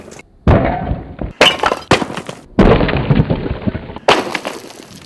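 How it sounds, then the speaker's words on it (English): A cinder block dropped from the top of a building smashes into sharp fragments and shards, giving several loud, close crashing impacts with gritty scattering debris separated by brief gaps. "drop a cinder block from the top of a building. What we will find is that that block will break into sharp fragments and shards."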